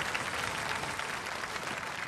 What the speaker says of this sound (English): Ladies and gentlemen, give them both a round of applause!